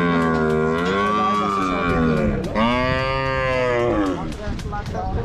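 Cattle at a busy cow market for the Eid sacrifice, a loud, close, drawn-out moo lasting several seconds, then a second long bellow over faint crowd murmur.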